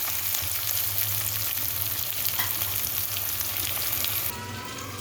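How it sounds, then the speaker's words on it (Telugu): Chicken liver fries in a pan with a steady close sizzle and crackle, along with a low hum and light stirring noises. It continues without a break and quietens slightly near the end. "ఫైనల్గా లెవర్ ఫ్రై అవుతుంది"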